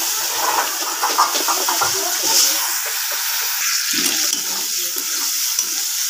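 Bitter gourd rubbed with salt and turmeric fries in a pan, giving a steady close hiss of sizzling oil with occasional soft scrapes and clatters.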